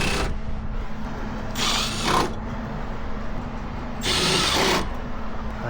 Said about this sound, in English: so we'll go ahead and put these screws back in.